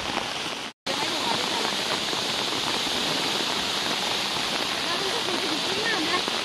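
Heavy rain pours steadily beside the Panawa waterfall in Phalelung, Panchthar, a dense, loud hiss that continues almost without break, with a brief dropout near the start.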